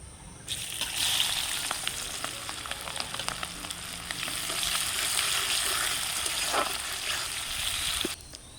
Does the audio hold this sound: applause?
no